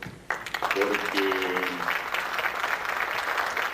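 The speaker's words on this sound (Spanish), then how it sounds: "yo les quiero pedir a ustedes un enorme aplauso" Applause from the audience at an international ufology congress swells up suddenly and continues as a sustained, fairly loud clatter of clapping, with a brief voice or tone briefly heard early on.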